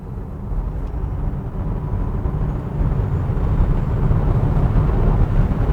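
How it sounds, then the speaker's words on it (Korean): Hyundai Ioniq 6 electric car accelerating after a toll gate, heard from inside as a steady, rising road and wind rumble with no engine note, growing gradually louder over several seconds. "제가 한번 엑셀을 좀 밟아 볼게요"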